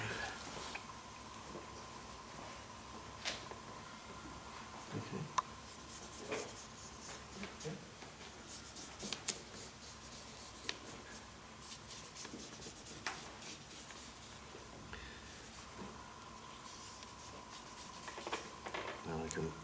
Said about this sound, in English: Try and draw this wave.